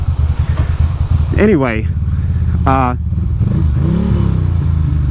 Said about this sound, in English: my bike, obviously when it's wet, runs on like one cylinder